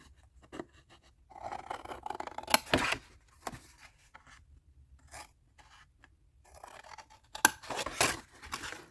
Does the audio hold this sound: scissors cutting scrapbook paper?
yes